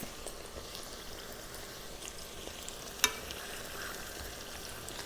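Bacalaitos, codfish fritters, frying steadily in hot oil as they are flipped with two forks, a continuous soft sizzle throughout with one sharp clink near the middle.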